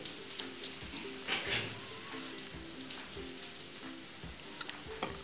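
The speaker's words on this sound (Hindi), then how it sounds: "अभी दाल को मैं फ्राई करके बनाऊंगी।" Soaked masoor dal fries in a pan with a steady, low sizzling hiss, broken by occasional soft clinks and stirring sounds.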